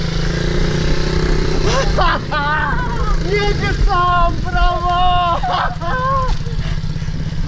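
An MRF 80cc kids' motorcycle engine runs with a loud, close, steady drone while an adult shouts excited encouragement over it.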